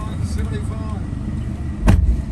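A 2021 LDV T60 ute fires up via push-button start, giving one short, loud crank-and-catch burst late on that settles into a low engine rumble, over quiet cabin background noise.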